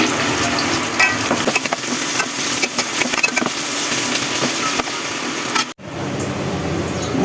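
Cinnamon and bay leaves sizzle in hot oil in a home kitchen, a steady close crackle with scattered pops and stirring clatter, briefly cut off near the end.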